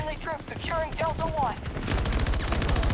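Rapid gunfire from the video game Battlefield 2042 in a burst of automatic shots, loud and close, following a brief stretch of game sounds with other chirpy effects.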